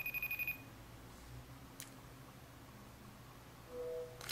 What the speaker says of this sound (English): I'm going to go ahead and call Tony directly from FaceTime